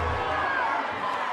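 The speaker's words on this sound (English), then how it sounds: "They are chanting." An esports arena crowd at a Standoff 2 major grand final roars and chants, a dense continuous wall of voices heard briefly under the mix.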